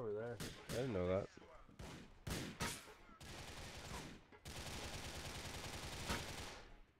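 Gunfire in GTA 4, rapid automatic bursts and single loud shots in a dense, clipped sequence, with a continuous rattle of fire through the second half and a voice briefly mixed in at the start.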